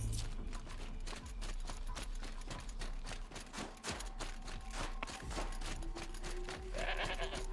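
Goat bleating in Horizon Zero Dawn, a short animal call amid a busy game soundscape with sharp transient hits throughout and a rising tone near the end.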